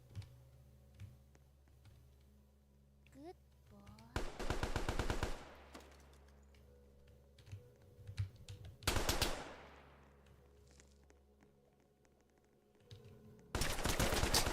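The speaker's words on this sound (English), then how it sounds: "now I'm getting shot at" Gunfire in the Roblox video game, heard as several loud rapid-fire bursts of machine-gun-like shots separated by quieter stretches of faint ticking game sounds.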